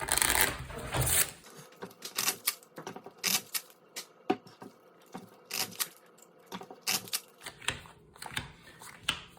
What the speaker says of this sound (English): Both decks are shuffled.